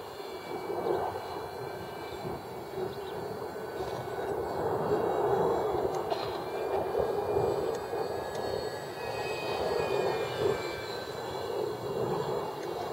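CF-18 Hornet fighter jets fly past with a faint, distant jet roar that swells a little midway and then eases off again. No one speaks over it.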